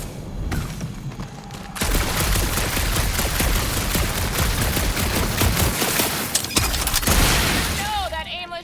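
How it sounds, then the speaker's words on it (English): Continuous automatic gunfire and booming blasts from the Guardians of the Galaxy game, a dense loud fusillade for most of the clip, with voices talking over it and a rising electronic whoop near the end. "that aimless shooting isn't gonna scare the monsters away"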